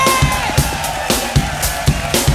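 A live concert audience in Cologne applauds and cheers for a trombonist at a funk show, the crowd noise loud and close over a steady thumping band groove.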